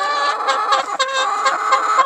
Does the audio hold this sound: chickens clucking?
yes